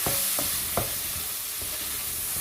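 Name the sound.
stirring red chili powder into frying dal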